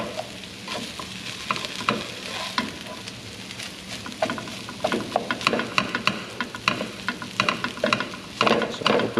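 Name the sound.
rice frying and sizzling in a pan with fat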